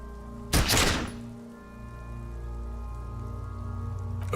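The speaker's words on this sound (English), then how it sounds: "plume of smoke erupts from the barrel. Your hand goes numb from the explosion." A single gunshot rings out in the game Disco Elysium, a sharp loud burst followed by a low lingering tone and a faint ringing hum.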